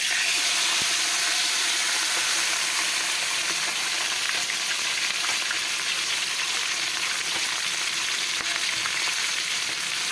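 Katambak fish dropped into hot oil fries with a loud, dense, continuous sizzle and crackle that holds steady throughout, heard close up and without any voices.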